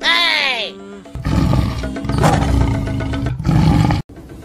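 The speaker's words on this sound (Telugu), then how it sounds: "అక్కడేమో పులి సౌండ్," A big cat's roar, given as a tiger, rumbles loud and continuous after a brief rising, whistle-like tone at the start, then cuts off abruptly near the end.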